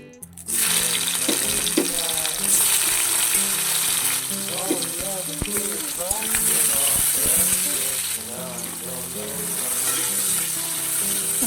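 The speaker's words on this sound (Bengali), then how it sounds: "কড়ায় তেল দিয়ে দিচ্ছি, তেল গরম হয়ে গেছে, এই কাঁকড়াগুলোকে দিয়ে দেবো।" Crabs hiss and sizzle loudly in hot oil in a wok, a dense continuous frying crackle with clattering stirring knocks and scrapes throughout, close and steady.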